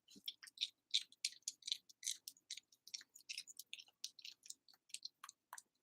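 Close, wet chewing and crunching, a quick rhythmic series of small bites and smacks, with no voices.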